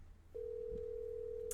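A telephone call rings through the earpiece as one steady, unbroken electronic tone that starts after a short pause and holds to the end, with a faint click partway through and a brief high chirp near the close.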